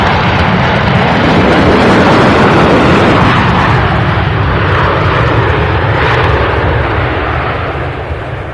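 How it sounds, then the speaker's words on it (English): A Southwest Airlines Boeing 737, about ten years old, roars past at Louisville International Airport, a loud, sustained broadband jet engine rumble that stays steady throughout and fades slightly at the end. "This aircraft here, the Southwest 737, just 10 years old."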